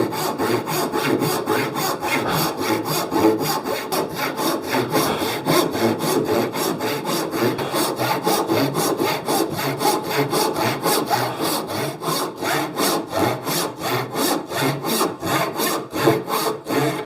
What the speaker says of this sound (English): I'm going to make my cut concentrating on this line and the line that's facing me